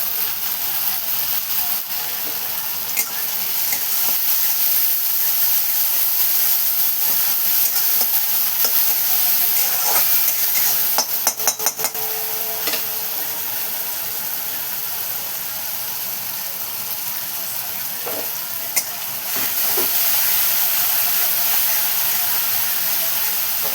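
Ground green chili and garlic fry in a pan for a village-style besan, a soft continuous sizzle and hiss with a few stirring scrapes and clicks throughout.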